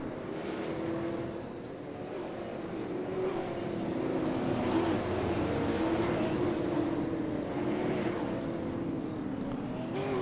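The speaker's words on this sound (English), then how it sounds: "The Ford Mustang pace car leading the field." A Ford Mustang pace car leads a field of race cars at slow pace around New Smyrna Speedway, a steady, rumbling engine drone from the pack that swells slightly as they circle.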